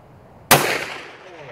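An Adler shotgun with a 20-inch full-choke barrel fires a single loud buckshot round outdoors, a sharp close blast that decays over about a second.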